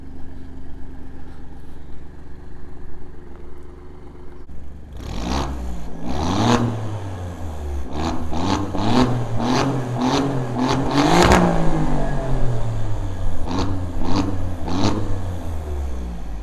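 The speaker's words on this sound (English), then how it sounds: "This is our Alfa Romeo Giulia Quadrifoglio, a pure Italian" A 2018 Alfa Romeo Giulia Quadrifoglio with a 2.9 V6 bi-turbo engine starts from quiet, then revs repeatedly with rising and falling sweeps and sharp throttle blips, loud and close with no speech.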